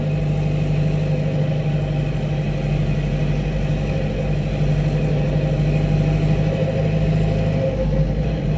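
A Tata vehicle's engine labours steadily in a low gear as it crawls slowly up a narrow, steep ghat road near Giddalur, a constant mid-pitched drone with road rumble and no talk.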